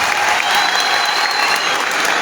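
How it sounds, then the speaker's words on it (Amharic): Warm applause from an audience welcoming officials at a Qebena development association fundraising event in Dire Dawa, loud and dense steady clapping from a crowd throughout. "ሞቅ ባለ ጭብጨባ እንቀበላቸው"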